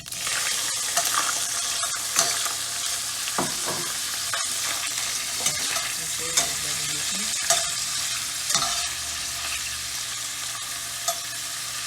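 Hot dogs fry in a pan as the start of a spaghetti sauce, giving a steady, close sizzle throughout with occasional scraping stirs and clinks, and no talking.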